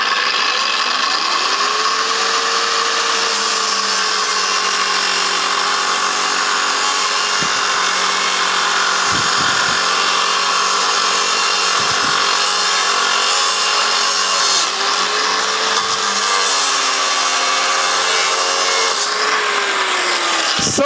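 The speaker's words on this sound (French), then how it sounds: "On va brancher la disqueuse sur une sortie de courant." Angle grinder powered from an electrical outlet cuts through a piece of metal, a loud continuous high-pitched whine and grinding rasp held for about twenty seconds, with brief dips where the disc load changes and no voices.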